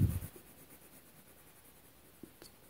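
A Tombow Irojiten colored pencil is layered and blended onto paper in a national parks colouring book, a faint, soft, continuous scratchy rubbing with a brief louder scrape at the start and a couple of light taps near the end.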